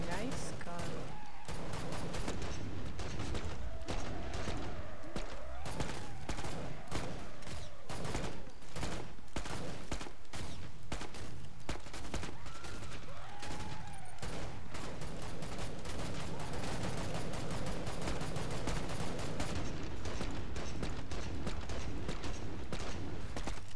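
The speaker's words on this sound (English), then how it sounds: "I just heard a lot of shooting." Heavy gunfire in the video game Killing Floor 2: dense, continuous bursts of rapid shots and fusillades, loud and close, with players talking intermittently underneath.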